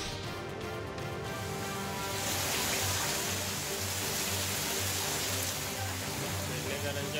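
Heavy monsoon rain pours down in Mumbai as a dense, steady wash of hissing noise that grows slightly louder after the first couple of seconds. A faint tonal drone sits underneath.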